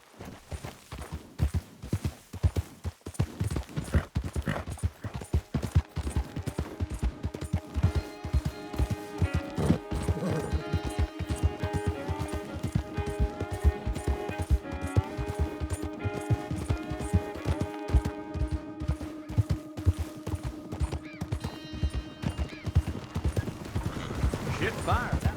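Horse hooves clip-clop at a steady walking rhythm in the Red Dead Redemption 2 video game, continuing throughout under in-game music, with occasional talk from a voice.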